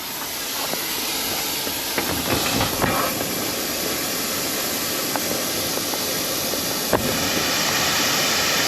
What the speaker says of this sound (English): Step 2, start sandblasting